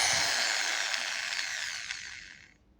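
A Ryu RDR 10-3 RE cordless drill runs in reverse with a steady high motor whine, close and alone, before spinning down and fading out at the end.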